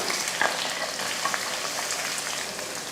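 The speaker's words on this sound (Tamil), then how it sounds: "வெங்காயத்தை நல்லா வதக்கிடுவோம்" Onions and plenty of curry leaves frying in hot oil, a dense crackling sizzle with small pops and faint stirring, steady and close.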